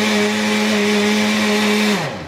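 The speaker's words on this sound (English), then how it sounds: "we'll put our lid on our blender" A blender whirs steadily at high speed, blending three eggs into a thick, eggnog-like mix. The loud motor hum runs without a break for about two seconds, then winds down as it is switched off.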